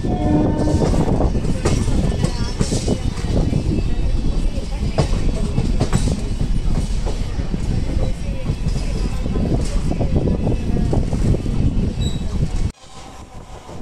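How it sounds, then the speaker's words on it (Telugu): A DEMU train pulls out of Renigunta railway station near Renigunta Junction as rain threatens, its loud, close rumble and wheel clatter running continuously before dropping off abruptly near the end. "ఇప్పుడే మా ట్రైన్ వచ్చేసి రేణుగుంట రైల్వే స్టేషన్ నుంచి డిపార్చర్ అవుతుంది"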